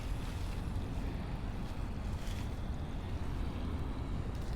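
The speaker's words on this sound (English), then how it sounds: "So we'll let the water run here for a second" Water runs steadily from a garden hose into a hole dug under a mango tree being removed, a continuous broadband rushing hiss close to the microphone with no pauses and no talk.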